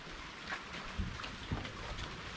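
Rain falling outdoors in a mangrove setting in the Philippines, a steady faint hiss of drops with a few soft knocks, low and continuous without talk.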